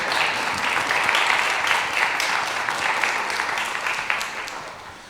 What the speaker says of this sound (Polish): I teraz oklaski.